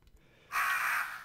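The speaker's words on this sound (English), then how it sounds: "Being attacked by crows." A crow's harsh caw in the Resident Evil remake, one short loud raspy call that bursts in after a near-silent moment and holds briefly.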